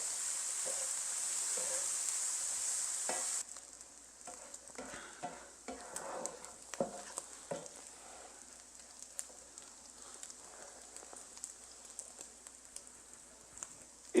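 Bacon browning in a pan gives a steady, dense sizzling hiss for a few seconds, then settles into quieter frying with scattered close crackles and pops.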